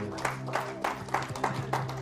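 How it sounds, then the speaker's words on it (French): A church congregation claps in time, about eight evenly spaced beats over a steady sustained musical tone and low hum, fairly close and moderately loud. "applaudis pour le Seigneur"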